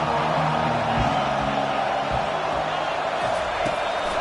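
Home crowd noise at a football game as the defense faces third down, a steady loud roar of the stadium throughout, with a commentator talking over it.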